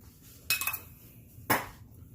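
Utensil clinks against a pot while garlic parmesan pasta is stirred, two sharp scraping knocks about a second apart over a quiet background.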